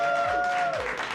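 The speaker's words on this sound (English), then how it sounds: "Let's have a round of applause for the next hour." Studio audience on a live New York sports talk radio show claps briefly, a short burst of moderate applause with a steady tone running over it.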